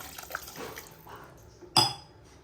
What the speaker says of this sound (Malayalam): ഇനി ഇതിലോട്ട് നമുക്ക് 1 ഗ്ലാസ് വെള്ളം ഒഴിച്ച് കൊടുക്കാം